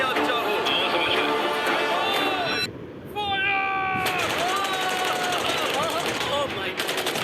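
Guns fire in a staged event, dense rapid bursts of shots layered with whistling, chirping tones and a crowd-like babble, loud and continuous apart from a brief drop-out midway.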